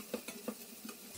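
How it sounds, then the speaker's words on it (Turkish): Tomato and pepper paste fries in a pan while being stirred, giving a low sizzle broken by a few quick scraping strokes of the spoon, faint and close with no voices. "Salça rengini verene kadar iyice kavuruyorum."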